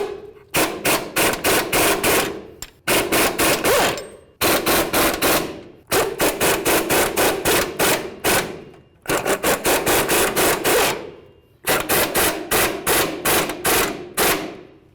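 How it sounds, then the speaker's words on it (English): Rapid bursts of ratcheting or impact-wrench clatter tighten nuts on a lower ball joint of a 1988–2002 GMC Sierra 1500, coming in loud, close runs of repeated strikes separated by brief pauses. "we're going to use our wrench, hold the bolt on the bottom side, and we'll snug up these nuts"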